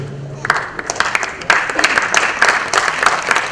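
Crisp hand claps from an audience, scattered at first and then swelling into fuller applause, with voices talking over them.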